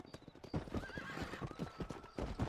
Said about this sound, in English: There's horse noises coming from somewhere.